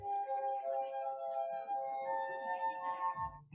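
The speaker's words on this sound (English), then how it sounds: "running your finger around the rim of a glass at just the right speed will produce sound" Steady ringing tone of a finger circling a glass rim, several pure sustained overtones humming evenly for a few seconds, with a soft thump near the end.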